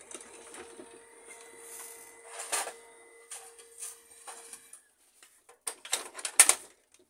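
An HP LaserJet 1200/1300 laser printer whirs and clicks as it prints a test page, with a steady mechanical hum, then a series of sharp clacks and paper-feed clatters near the end.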